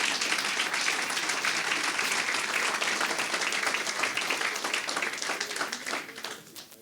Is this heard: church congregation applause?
yes